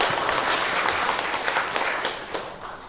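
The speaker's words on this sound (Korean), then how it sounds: "격려의 박수 한번 보내드리겠습니다" A church congregation gives a short round of encouraging applause during a Sunday worship service, a moderately loud spread of hand claps that swells and then gradually thins out.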